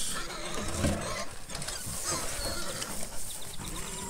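Three pigs grunt and snuffle while eating bagged pig feed from three bowls close by, with wet chomping and clattering mixed with soft animal noises.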